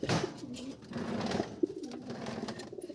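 Racing pigeons in a loft in Ibaan, Batangas give repeated low rolling coos, close and moderately loud, with a few wing and shuffling sounds between them and no speech.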